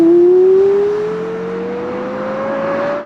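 A Porsche Carrera GT's mid-mounted, naturally aspirated V10 holds a steady high-pitched wail that climbs slowly in pitch, loud and close, then cuts off abruptly, with no talking.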